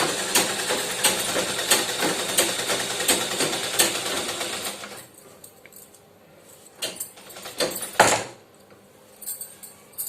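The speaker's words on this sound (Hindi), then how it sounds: "अब हम इस पर दोहरी सिलाई लगा देंगे।" Sewing machine running in a steady mechanical whir for several seconds while double-stitching the sleeve of a lined blouse, then stopping, followed by quieter handling knocks and clicks.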